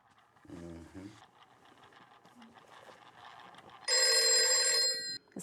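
A bright electronic phone ring bursts in loudly for over a second after a brief low buzz and quiet room noise.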